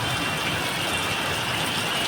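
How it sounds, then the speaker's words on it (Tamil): Summer rain falling in a town near a temple in Mannargudi, heard as a steady, dense broadband hiss that stays even and continuous throughout, with no voices over it. "இன்றைக்கி 2வது நாளாக கோடை மழை."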